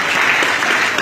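Dense, steady applause from an audience at an award ceremony for an Abidjan newspaper, held in a New York hotel, filling the room continuously at close range.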